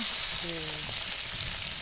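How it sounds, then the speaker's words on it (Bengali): Oil sizzles and crackles steadily in a pan as koi fish fry, a continuous frying hiss with a faint tonal clink in the middle. "মাছ ভাজা বসিয়ে দিয়েছো?"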